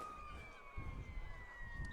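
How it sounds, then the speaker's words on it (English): A faint police siren wails steadily in the distance outdoors near a high school football game, its rising and falling tone running under crowd noise and murmuring voices. "here we do hear sirens over here quite a bit"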